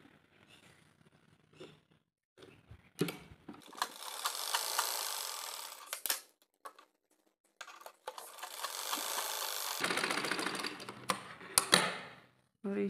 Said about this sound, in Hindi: इसकी कटिंग करने के बाद में हम यहाँ पर सीधी सिलाई लगा देते हैं।